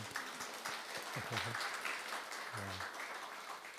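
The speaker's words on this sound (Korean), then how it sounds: "보시고 우리 위로와 격려의 박수 한번 하도록 하겠습니다" Church congregation applauding during a Sunday worship service, a quiet, even patter of clapping from a room of people, with brief voices mixed in.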